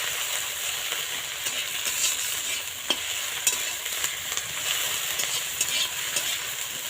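Kharkol leaves and a whole chili fry in a pan under a constant bright sizzle while being stirred, with scattered sharp scrapes and knocks of the spoon against the pan.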